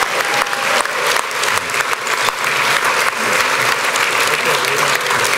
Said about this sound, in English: please join me in a round of applause to congratulate this year's Riverside Sport Hall of Fame scholarship recipients